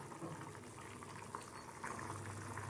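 Steady bubbling of water boiling in a pot of tomato kurma, a soft continuous simmering hiss with small pops, heard alone and quite faint.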